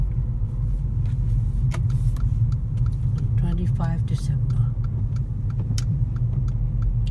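Interior of a car cruising along a quiet, traffic-free road on 25 December, a steady low engine and road rumble throughout, with scattered small clicks and someone speaking briefly over it.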